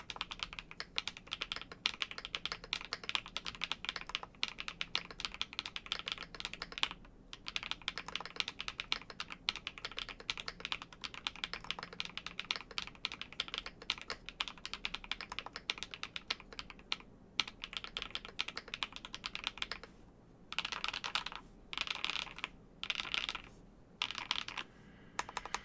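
Rapid, steady typing on an Epomaker Split65 split keyboard fitted with HMX Finicky First Encounter switches and GMK Redline keycaps, close-up keystrokes clattering continuously before breaking into short bursts with pauses near the end.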